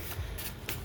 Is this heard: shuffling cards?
yes